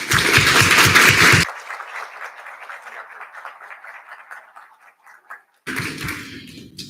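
Applause from a student government senate meeting starts loud and close, then thins into a scattered, fading patter of claps before a second burst of clapping near the end.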